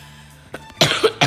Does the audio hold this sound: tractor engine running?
no